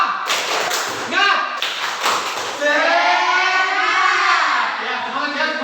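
A classroom of children doing the tepuk semangat clapping chant: a few sharp, close claps, then sustained chanting voices that carry to the end.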